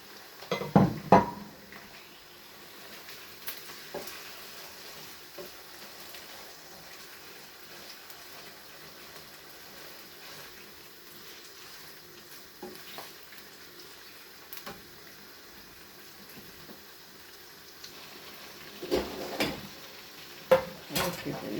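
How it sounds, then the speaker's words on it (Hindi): Chicken fries in a pan with onion and garlic for chicken pasta, a steady low sizzle with utensil clinks and stirring scrapes bunched at the start and again near the end. "अब इसमें डालते हैं चिकन। चिकन को भून लेते हैं।"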